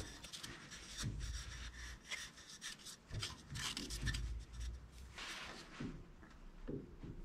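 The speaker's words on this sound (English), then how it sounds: "I tamp the sawdust and glue into the hole with a screwdriver." Sawdust and wood glue being tamped into a hole in scrap wood with a screwdriver while turning a small bowl, heard as repeated close scraping and rubbing strokes with soft knocks, steady throughout.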